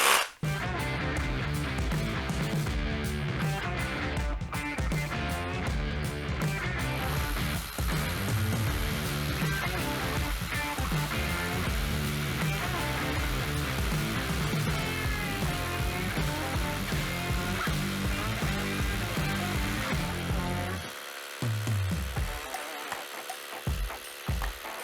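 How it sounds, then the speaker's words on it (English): A 12 volt DeWalt rotary hammer drills a 12 by 80mm hole into concrete, a loud, steady, rapid hammering grind lasting about twenty seconds before stopping abruptly. "It is 12 by 80mm drilling into the same concrete"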